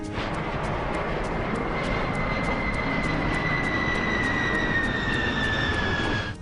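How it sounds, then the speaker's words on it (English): Airbus A320 airliner flying low at about 30 feet, with a steady loud jet engine roar and a rising whine held throughout at close range. "Béchet's plan is to descend to 30 feet, as Asseline's A320 did."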